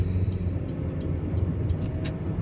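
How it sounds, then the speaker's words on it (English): Steady low road rumble from inside a moving car, a continuous droning hum with faint intermittent higher ticks and no talking. "I'm driving still"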